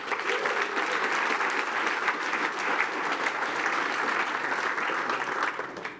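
An audience at a tech conference applauds a speaker with a sustained wash of clapping from many hands, fairly close and even throughout before trailing off at the end.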